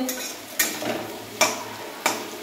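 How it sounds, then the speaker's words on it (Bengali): Potatoes hiss as they fry in a pan, broken by three sharp clinks of a utensil against the metal at uneven intervals. "আলু ভাজা হচ্ছে এই যে"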